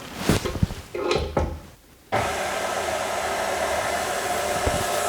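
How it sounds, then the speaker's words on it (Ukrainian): Stand mixer with a dough hook kneading flour and starter on low speed for an orange Easter paska; a few clattering knocks, then a steady, fairly loud motor whir takes over after two seconds and runs evenly to the end. "Починаємо замішувати на низькій швидкості насадка крюк."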